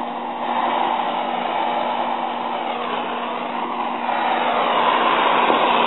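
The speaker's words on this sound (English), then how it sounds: "get this torch up and running right" A gas torch fed by a homemade hydrogen cell burns with a steady, loud, continuous roaring hiss and a constant underlying hum, unbroken for the whole stretch with no voices.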